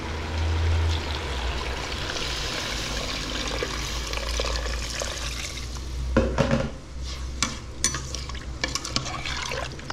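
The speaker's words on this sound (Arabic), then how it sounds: "هيا هنا نزيدو الماء" Water is poured into a cooking pot of frying chickpeas and meat for Tlemcen-style Algerian couscous, giving a loud sizzling rush that settles into bubbling with scattered clinks of utensils.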